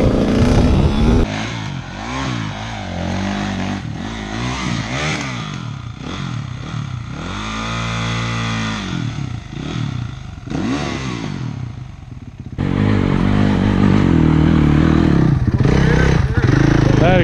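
Dirt bike engine revving hard and continuously while riding outdoors, loud and close with rising and falling pitch sweeps, talk and shouting mixed in.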